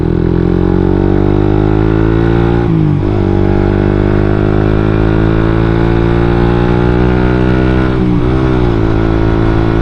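A Suzuki GSX-R150 motorcycle engine pulls steadily in third gear while riding at speed, a loud, continuous high-pitched drone with strong harmonics, briefly dipping and rising twice as the throttle shifts.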